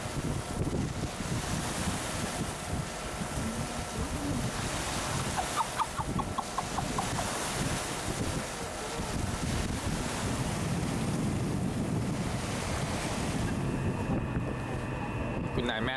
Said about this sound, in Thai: มันมีคลื่นแรงๆมีคลื่นแรงๆเลย